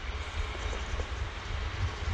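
A hybrid passenger train pulls into a station with a steady low rumble and broadband rolling noise that holds throughout, fairly loud and continuous with no speech.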